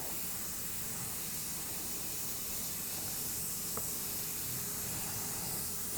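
An airbrush mists paint across a biomechanical skull in a steady, close, continuous hiss of spray with no pauses, apart from a couple of faint ticks.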